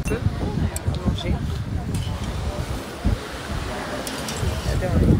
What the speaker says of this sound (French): Mais il y a grave du vent aujourd'hui.